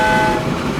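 A train horn sounds in the video game Transport Fever 2, a steady, sustained tone held for under a second over a low rumble of the moving train, with no talk.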